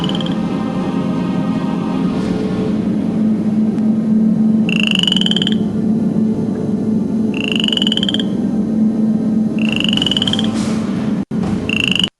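Frogs croaking in a loud, continuous chorus of low rattling calls, with sharper rising chirps repeating every couple of seconds, no voices.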